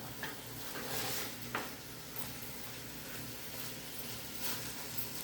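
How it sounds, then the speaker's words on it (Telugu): Country chicken pieces fry in a little oil in a pan, a steady, soft sizzle with a couple of faint clinks and stirring sounds, quiet and close, with no talking. "ఇలా కొంచెం నూనెలో ఇలాగా ఫ్రై అవ్వాలి."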